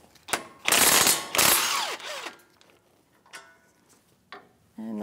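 A socket wrench on a 19 mm socket ratchets loose a caliper-to-knuckle bolt on the front brakes of a 2010-2023 Toyota 4Runner, in two loud bursts of rapid clicking followed by a few fainter, scattered clicks and knocks.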